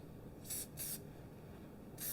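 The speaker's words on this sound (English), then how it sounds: "we're going to spray this time" Heavy-duty spray adhesive hisses from a can in three short bursts, two close together and one after a pause, fairly loud against a quiet room while gluing a DIY ugly Christmas sweater.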